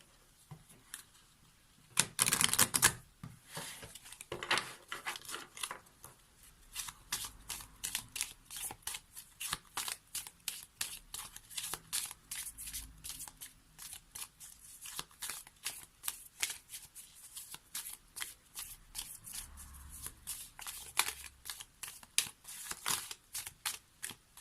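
Lenormand oracle cards shuffled by hand close up, a long run of quick, papery riffling and flicking strokes with a few louder bursts, continuing steadily without talking.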